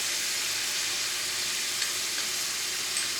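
Garlic sizzles in a pan of cream sauce, a steady, fine hissing crackle with faint bubbling pops, close up and unbroken.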